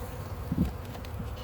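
Honeybees buzzing around an open hive during a spring inspection and clean-up after winter, a steady close drone with a brief louder swell as a bee passes near, with no talk.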